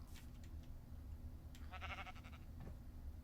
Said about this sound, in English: there's a pink sheep here